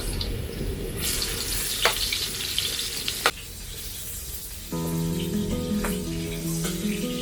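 Onions tumble into a pan of browned garlic in oil and start frying, a steady loud sizzle that jumps in pitch and intensity midway as they hit the hot oil, with brief clatters along the way.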